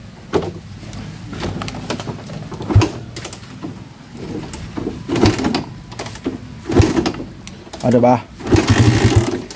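A Rusi Raider 150 motorcycle that keeps dying and won't restart struggles to start, giving several uneven bursts of cranking and sputtering engine that fail to catch, with someone talking between attempts.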